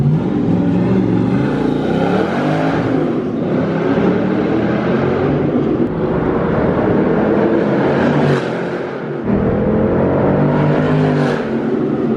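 An LS-swapped American V8 in a Porsche 911 roars hard under acceleration, loud and throaty from inside the car, with the note rising through gear changes and a brief dip between pulls.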